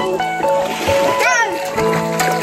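Children bathing and splashing about in river water, with bright excited kids' voices chattering over repeated splashes close by.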